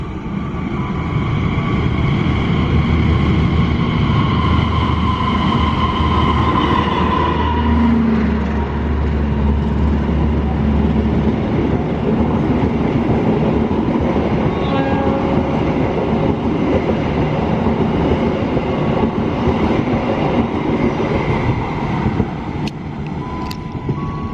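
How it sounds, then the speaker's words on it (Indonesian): A train rumbles steadily past on the tracks, a loud continuous roar with rattling wheels and faint squeals, no voices. "Kemudian jalur 2 segera melintas kereta api Argo Sindoro 17"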